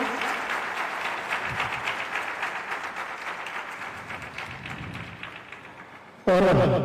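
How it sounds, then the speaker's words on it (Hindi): Steady crowd applause fills several seconds at an even level, then is abruptly replaced by a louder, different sound at the very end. "आप सब मंचस्थ अतिथियों का जोरदार तालियों से स्वागत करें।"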